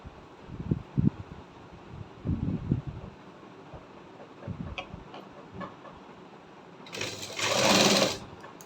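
A sewing machine stitching a fabric collar, with short rhythmic bursts of needle chatter in the first few seconds, then a louder, steady whirring run near the end.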